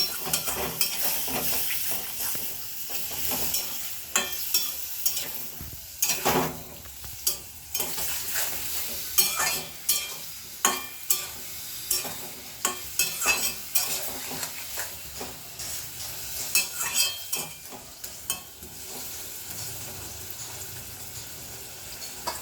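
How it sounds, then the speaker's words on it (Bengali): Spice paste for a mourola fish curry (jhal) being stir-fried in a pan with a little water: a continuous soft sizzle with repeated spatula scrapes and clinks against the pot, close and without voices. "অল্প জল দিয়ে দিলাম, মশলাটা ভালো করে কষিয়ে নিচ্ছি।"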